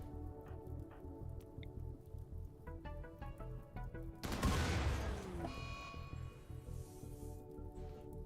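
Grenade blasts in the RimWorld video game, a sudden loud broadband burst about halfway through that decays over a second, set against ongoing game music with tonal notes and a steady background bed.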